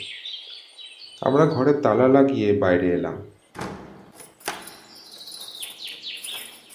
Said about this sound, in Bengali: পাখির ডাক আরও বেশি করে শোনা যাচ্ছে।